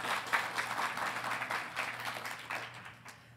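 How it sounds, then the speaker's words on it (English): A graduating class of 2021 claps together at a Colorado State University College of Agricultural Sciences ceremony, a dense, steady patter of many hands that holds for a few seconds and then thins out toward the end. "Class of 2021, clap so I can hear you."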